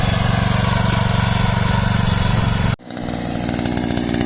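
A Rotakt RO15R walk-behind tiller's small petrol engine runs loud and close with a steady buzzing drone, then the sound abruptly changes near the end to a quieter, rougher running note.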